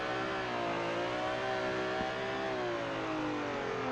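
Car engine in Assetto Corsa revving steadily through a continuous drift donut, the throttle modulated so the pitch rises and falls slightly, loud and close with no speech.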